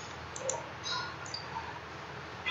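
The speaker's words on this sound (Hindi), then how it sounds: "उसके बाद हम यहाँ सबमिट पे क्लिक कर देंगे।" A computer mouse clicks on a submit button of an electricity service website form, a few faint, sparse clicks over a steady background hiss.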